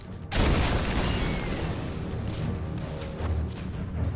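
Detonated naval shells in a WWII battle at Fort Brest erupt in a loud, sudden blast that rolls into a long, dense rumble of debris and echoing explosion noise.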